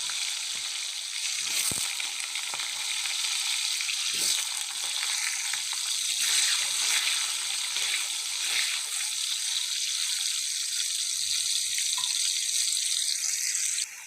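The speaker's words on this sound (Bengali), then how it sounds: "এবারে আলুগুলো আগে ভেজে নেবো, তারপরে ফুলকপিগুলো ভাজবো।" Potatoes frying in hot oil for a cauliflower and potato dish, a steady close sizzle and crackle running the whole time with faint stirring clinks and no talk.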